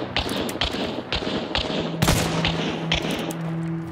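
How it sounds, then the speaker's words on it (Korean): Repeated gunshots ring out in the Hunt: Showdown video game, a series of sharp broadband cracks at irregular intervals with one heavier blast near the middle, over a steady game-ambience background. "뭐야 왜 이렇게 총소리 여러 번 들리는 거야 이거?"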